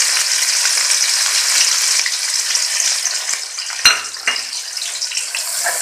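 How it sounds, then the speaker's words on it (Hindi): Onions drop into a little hot oil left from frying taro and hiss loudly in a constant bright close sizzle, with a single clank of metal against the pan midway. "उसी ऑयल में से निकाल कर थोड़ा सा ऑयल छोड़ा है और ये प्याज इसमें डालेंगे"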